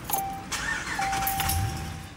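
A car's engine cranks and catches nearby, with keys jangling and a faint high whine. The sound is moderately loud and has no speech over it.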